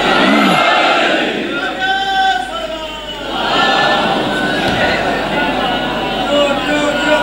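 A large crowd at a Shia religious gathering in Kot Samaba, Pakistan, chants a religious slogan in unison, loud and close, rising in waves over a roomy, echoing din.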